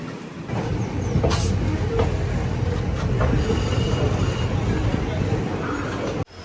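Train rolling into KSR Bengaluru railway station, a steady loud rumble of railcars with faint wheel squeal throughout, ending in an abrupt cut near the close.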